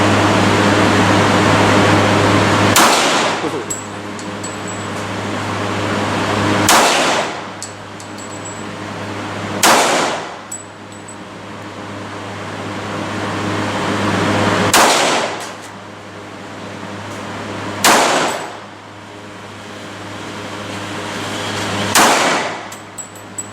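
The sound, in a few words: Springfield XDM .45 pistol gunshots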